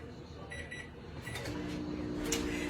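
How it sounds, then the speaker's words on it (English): A quiet, steady hum of a running microwave oven, with a few faint clicks and a low mechanical drone that grows slightly louder. "I might pop that in there and melt it just a second in my microwave"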